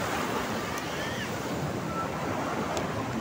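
Waves break steadily on the beach at Karang Haji in Sukabumi, a continuous rushing surf wash with some wind buffeting the microphone and no voices.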